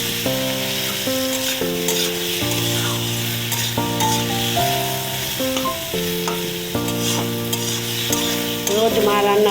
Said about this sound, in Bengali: হলুদ দিয়ে দিলাম, হলুদ দিয়ে একটু নাড়াচাড়া করে একটু হলেই দিয়ে দেবো।